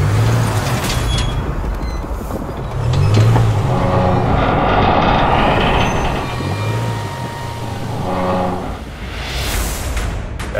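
A standard Land Rover Discovery Sport, barely modified and riding on rail casters, strains to tow a 108-tonne train. Its engine drones loud and steady with low rumbling, and heavy mechanical noise rises and falls throughout, with no speech.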